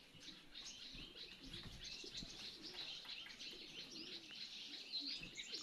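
Pigeons coo and chirp at a bird feeder platform in the grounds of a Nilkanth Mahadev temple. The birds sound faint and somewhat distant, with a few wing flutters over a continuous outdoor hiss and no speech.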